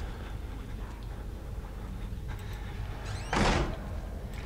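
A heavy wooden door is smashed by a monster in the Outlast video game, heard as a single loud crashing thud over a low, rumbling ambience.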